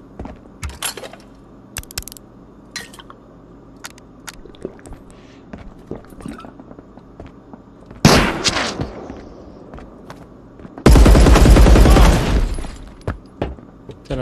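Scattered sharp shots and clicks in the video game Marauders, then two loud sustained bursts of rapid gunfire, the second a dense heavy volley lasting about two seconds.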